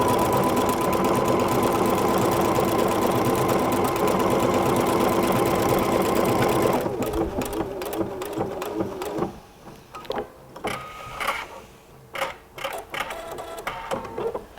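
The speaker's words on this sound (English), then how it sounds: "I'm just going to press the start stop button and go ahead and stitch this out." A PFAFF creative icon sewing machine stitching out a satin stitch, first with a fast steady mechanical whir, then with quieter irregular clattering bursts of stitches.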